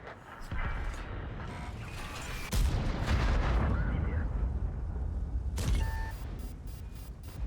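ISU-122-2 tank gun in World of Tanks firing heavy booming shots, two loud blasts with rumbling tails a few seconds apart, followed by mechanical clanks and game effects.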